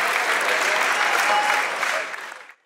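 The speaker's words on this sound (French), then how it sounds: "on les applaudit encore une fois, ces grands champions" A crowd claps steadily and loudly for professional boxers for a couple of seconds, then the applause quickly fades out.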